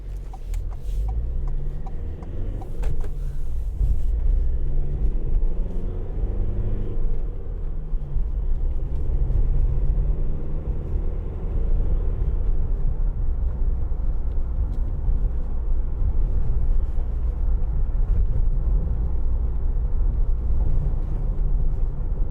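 A 2019 Ford Transit Custom 300 van with a 2.0 EcoBlue engine rolls along a bumpy road, giving a steady, close cabin rumble with low drone and road thumps throughout.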